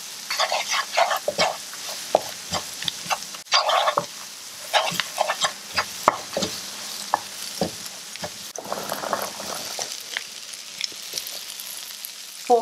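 Corn soup ingredients seasoned with salt and black pepper cook in a pot, a soft sizzle under repeated scraping and clattering stirs from a spoon, with no one speaking.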